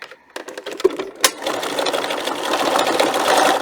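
A sewing machine stitches the fabric strap of a book protector, beginning with a few clicks and handling knocks and then settling into a steady, close, rapid mechanical whir that gradually speeds up.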